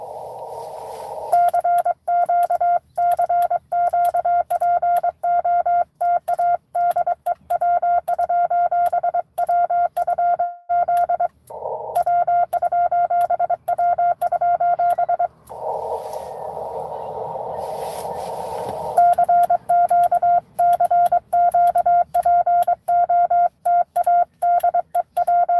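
Ham radio CW Morse code comes through as a loud, pure keyed tone in rapid dots and dashes. It keys on and off continuously, with brief breaks and a few stretches of static-like noise between sends.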